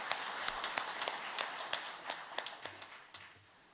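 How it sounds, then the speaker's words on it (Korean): A room full of people at a church service claps, a soft but steady patter of applause that thins out toward the end. "우리 하나님께 영광의 박수 올려드립니다"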